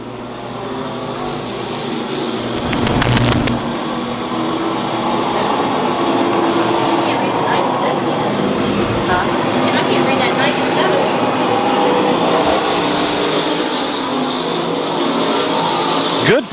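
Race cars at the Lakeside opening night circle the track in a four-car battle, engines roaring loudly and continuously as they pass close by, with a steady broad drone of mechanical noise throughout.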